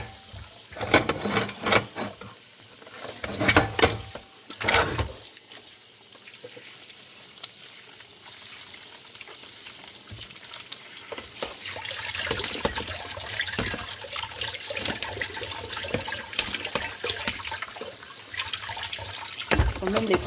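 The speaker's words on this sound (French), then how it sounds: "Et on va les rincer." Tap water runs and splashes over aubergines, courgettes and peppers being rinsed in a sink, a steady hissing flow with handling splashes early on, while a person talks at times.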